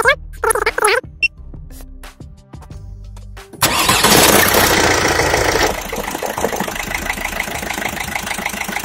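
A car engine is cranked during a starter load test with an Ancel BA201 battery tester. Quiet clicks come first, then a loud burst as the engine catches, and it settles into a steady idle.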